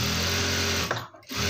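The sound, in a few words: sewing machine stitching a blouse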